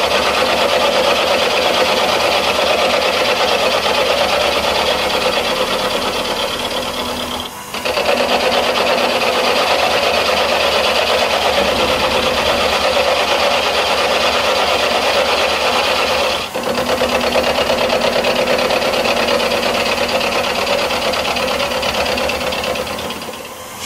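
A metal-cutting machine takes 1 mm cuts on a part for a 1905 Hornsby engine, making a continuous loud, rasping, buzzing grind that briefly dips twice before resuming, without any speech.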